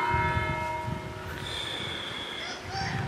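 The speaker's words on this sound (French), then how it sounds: "Voilà la cloche qui sonne." A church bell rings out nine o'clock at night in Vendôme, Loir-et-Cher, its sustained tolling tones carrying over a low rumbling background while someone speaks briefly nearby.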